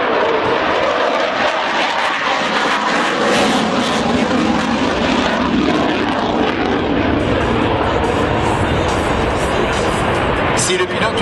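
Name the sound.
military jet aircraft engine at an airshow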